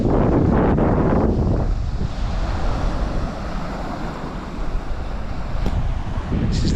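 Wind buffets the microphone at a beach by the sea, with waves and surf washing underneath in a steady, loud roar that eases slightly midway and swells again near the end; no one speaks.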